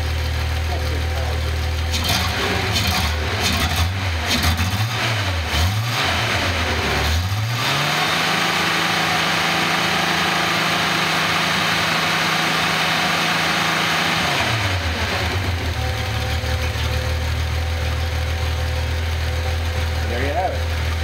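A Datsun engine on a run stand revs in several short, uneven bursts, then holds a high, steady rev for about seven seconds before dropping back to a rough idle. It is loud and close throughout.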